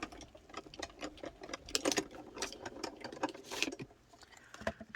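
A small Diamond Press Love Bandit die-cutting machine is cranked through, giving close, quiet, irregular clicking and ratcheting ticks that bunch into a couple of louder bursts.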